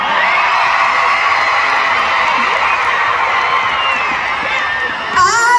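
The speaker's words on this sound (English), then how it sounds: "I love it so much when you scream so loud." A live crowd at a concert in Sacramento screams and cheers in a loud, sustained, high-pitched roar, with many children's voices. It keeps going without a break and swells again near the end.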